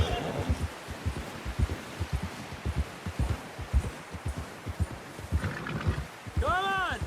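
A horse in Red Dead Redemption 2 trots along with a quick run of soft hoof thuds, then gives a short whinny near the end, all under people talking.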